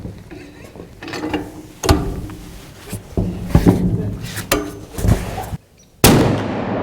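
Heavy, sharp reports from an ArmaLite AR-50 rifle at a gun show range: several loud cracks spaced across the span, with clanking mechanical handling between them and brief quiet gaps.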